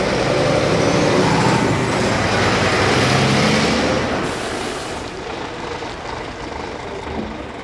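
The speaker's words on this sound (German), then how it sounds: "Danach fahren die LKW zum Ladeplatz." Heavy trucks drive to the loading area at a sugar beet harvest site, a loud, steady rumbling engine and rolling noise that eases slightly after about four seconds, with no talk.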